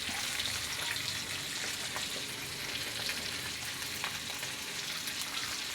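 Dried tuyo fish frying in used cooking oil gives a steady, dense crackling sizzle that runs unbroken and fairly close throughout, with no voices.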